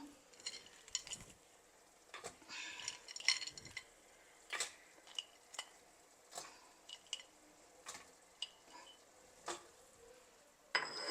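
Crab pieces are dropped into masala in a cooking pan and stirred, giving a series of sharp metal scrapes and clinks of spoon against pan at irregular intervals, close and crisp over a faint sizzle.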